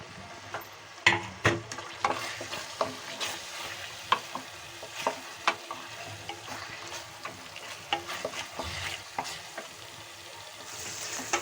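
Fried potatoes are stirred into a shahi paneer gravy in a pan. A low sizzle runs under repeated spatula knocks and scrapes that come in an irregular rhythm.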